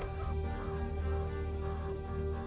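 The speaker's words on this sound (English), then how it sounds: "how loud the cicadas are" Steady, dense drone of cicadas at a camp at Nossob in the Kgalagadi fills the air, a continuous high buzzing that never lets up, with no voices.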